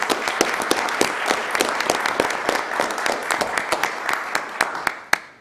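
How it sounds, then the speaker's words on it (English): Attendees at a county commissioners' meeting give a round of applause, heard as a moderate cluster of distinct hand claps that thins to a few scattered final claps. "Let's give him a round of applause for that."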